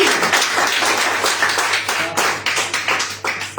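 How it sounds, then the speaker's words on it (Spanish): Worshippers at a church service clap loudly and close by, the applause turning into a rhythmic, pulsing beat of hands in unison. "Denle un fuerte aplauso"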